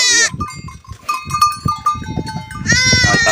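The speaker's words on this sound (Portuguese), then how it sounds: "Pariu esse borreguinho graúdo ali, ó." A sheep that has just given birth to a large newborn lamb on a farm bleats loudly in short, quavering cries at the start and end. Rustling and low shuffling noises fill the gap between the cries.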